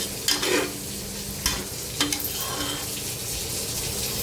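A spoon stirs spices in a pressure cooker for veg pulao, making a few scraping strokes against the metal over a soft, steady sizzle of frying, close up with no talk.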